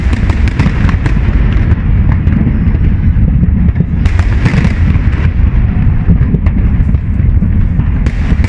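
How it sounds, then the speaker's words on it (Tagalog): New Year fireworks in Bahrain bursting continuously in a loud, dense barrage, with louder sharp cracks standing out now and then over a constant rumble. "Ayun! Fireworks na!"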